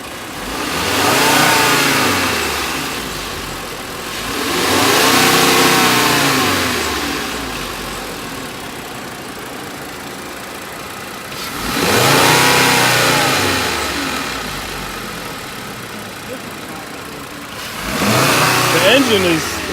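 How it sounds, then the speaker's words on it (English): A 2011 VW Golf engine being revved in place during a check for vehicle shake, four separate rising and falling revs with idle between, loud and close, with people talking over it. "You're gonna rev it a couple times just to see"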